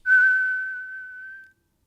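A single steady synth tone in Reaper starts loud, fades quickly, then holds at a low, even sustain level for over a second before cutting off cleanly.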